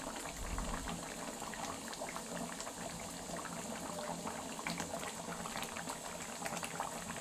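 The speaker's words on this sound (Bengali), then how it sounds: "দেখে বুঝতে পারছেন মাংসটা সেদ্ধ হয়ে গেছে" Chicken simmers in buttermilk in a pot, giving a dense, steady bubbling that stays even and continuous from start to finish, with no voices.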